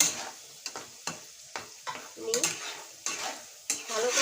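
Pea pickle being stirred with pickling spices in a pan, a spoon scraping in repeated strokes about every half second over a low, steady sizzle, close and fairly quiet.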